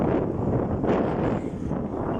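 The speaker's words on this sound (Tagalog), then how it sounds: "Lakas kasi ang hangin." Strong wind roars steadily across the microphone, a continuous broadband rush with slight swells and no voices.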